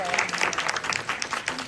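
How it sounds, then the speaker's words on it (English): A panel audience at a Black Women in Media event gives a round of applause, dense clapping throughout under a murmur of voices, moderately close and steady. "let's give a round of applause to our wonderful dynamic panel here"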